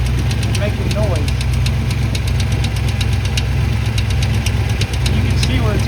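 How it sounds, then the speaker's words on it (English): A K5 Blazer engine idles close by with a rapid, even metallic tapping from the starter gear ticking over the steady rumble, and a voice speaks briefly. "Yeah, it's tapping that starter gear and making noise."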